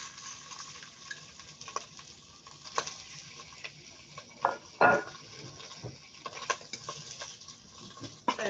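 Shrimp sautéing over high heat in Cretan extra virgin olive oil in a pan, a steady sizzle with scattered clinks and scrapes of a utensil against the pan, close and moderately loud.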